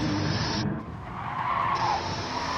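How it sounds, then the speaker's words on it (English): A drift car slides completely sideways through turn 1 in a drifting competition, its tyres letting out a loud, continuous screech that dips briefly and then swells again, alone without talk. "DJ Stefko just hanging on to it as he gets completely sideways through turn 1."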